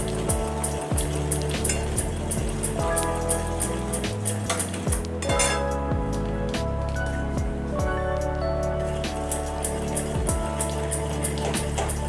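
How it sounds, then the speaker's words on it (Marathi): A pan of moong dal halwa is stirred over a very low flame, with a spatula clinking and scraping against the metal in a steady run of small knocks, all under continuous background music. "थोडंसं अगदी परतून घ्यायचं आपल्याला."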